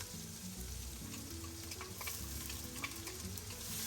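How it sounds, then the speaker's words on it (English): Lamb shanks browning with diced onions in a hot pan give a steady, close sizzle and crackle with occasional stirring scrapes, no voices. "Brown the beautiful lamb shanks, turn them over to get a nice golden brown color on all sides."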